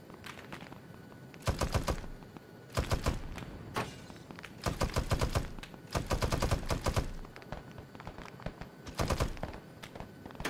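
Rapid bursts of automatic gunfire in the military shooter Arma 3, loud and close, fired in several clustered volleys separated by short lulls.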